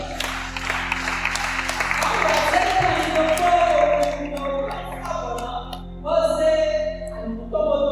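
A church congregation applauding and cheering, dense sustained clapping with voices rising and tapering off, then a brief fresh swell of claps.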